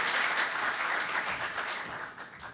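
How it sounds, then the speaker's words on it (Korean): Audience applause at a patent policy forum greeting an arriving lawmaker, a dense burst of many hands clapping that gradually thins and fades. "저희가 인사 말씀을 드리면서 박수로 모시겠습니다"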